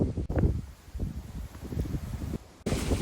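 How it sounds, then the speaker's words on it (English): Gusty wind roars and rustles through oak trees at a harvesting spot, buffeting the microphone in rough, uneven surges with a brief dropout near the end. "It's windy today."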